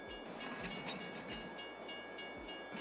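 In Farming Simulator 22, a train rumbles past at a rail crossing, its wheels clacking rhythmically under a steady tonal horn or crossing bell, heard faint and distant at low level.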